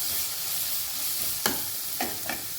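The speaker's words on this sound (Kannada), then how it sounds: "ಅದನ್ನು ಒಂಚೂರು ಚೆನ್ನಾಗಿ ಬಾಡಿಸೋಣ. ಈಗ ಇದು ಫ್ರೈ ಆಗಿದೆ." Onion frying in oil for a tomato curry gives a steady soft sizzle up close, broken by three sharp scrapes or taps of a spoon against the pan.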